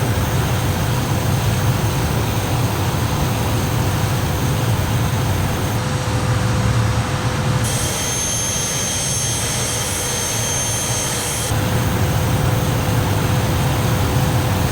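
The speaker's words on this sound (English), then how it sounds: "let's get the Hawk lined up, bring the power in and get her airborne" A Hawk jet taking off in Microsoft Flight Simulator 2024, with a steady, loud, broad engine roar and whine held throughout and no voices.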